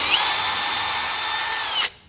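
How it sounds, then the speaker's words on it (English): A power drill fitted with a 2 mm bit bores through a mold, giving a loud, steady high-pitched whine for about two seconds before it cuts off abruptly. "I got a 2 millimeter drill bit here"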